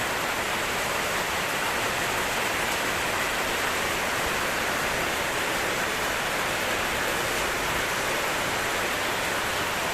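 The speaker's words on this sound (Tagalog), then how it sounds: "Ang lakas pa ng ulan." Steady, dense rain roars without pause over a flooded area, a heavy broadband hiss filling the whole stretch with no voices or breaks.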